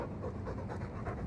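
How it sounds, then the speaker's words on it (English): Close, heavy panting from a Mabari war hound in Dragon Age 2, fast even breaths in a steady loop with nobody speaking. "All that noisy dog breath, day in, day out."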